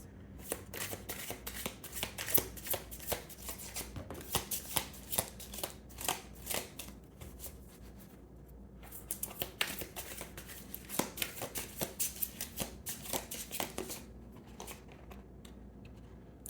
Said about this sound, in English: Just gonna reshuffle.